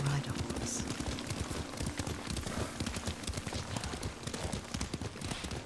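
Horse hooves clip-clop at a steady rhythmic gait during a ride in the video game Ghost of Tsushima, a continuous beat of hoof strikes close by with a faint ambient bed.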